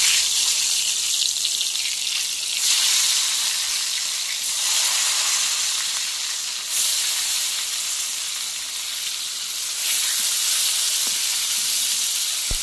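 Eggplant pieces fry in hot oil with a loud, continuous sizzling hiss that swells and settles in waves as the pieces cook.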